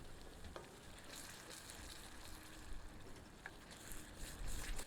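Soft, continuous sizzling and crackling of tomatoes in a tempering pan over low heat, fairly faint and steady, with occasional small pops and no talking.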